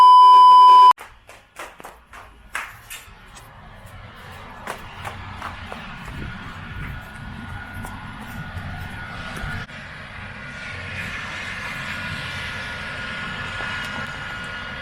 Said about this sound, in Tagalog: ang tawag nito emergency na helicopter